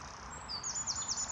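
Birds chirp outdoors in nature, a few quick high tweets and short rising calls repeating in the second half over a faint background hush.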